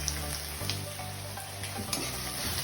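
Pasta with egg sizzles and fries steadily in a pan, a constant close hiss with faint scraping stirs and no voices.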